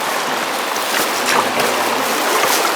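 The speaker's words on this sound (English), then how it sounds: "I'm gonna paddle forward a bit." A paddle strokes through river water beside a raft in a rocky gorge, giving a steady close rush of splashing and flowing water with no talking.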